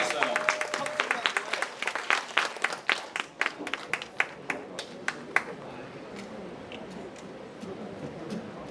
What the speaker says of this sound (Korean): 처음부터 우리 박수로 해주시기 바랍니다.